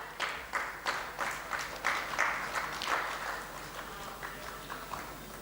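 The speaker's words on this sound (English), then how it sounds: "Let's have a huge round of applause for Mr. Avinash Samal." Sparse, fairly quiet clapping from a small audience at a panel event, individual claps distinctly audible in an uneven rhythm before tapering off.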